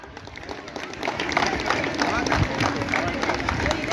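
Students and guests at a Navodaya school Republic Day function applauding after a speech, claps building from quieter scattered hands into steady crowd applause, with murmuring voices underneath.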